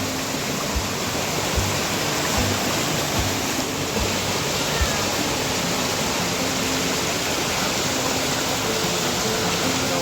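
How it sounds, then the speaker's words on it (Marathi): A monsoon stream runs beside a forest trail in Maval, a constant, loud, even rush of water with no breaks and no voices. "ओढा आहे बाजूला त्या बाजूनेच वाट आहे"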